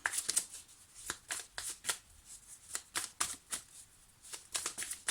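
Tarot cards are shuffled by hand in quick soft riffling bursts, faint and close, repeating steadily with no voices.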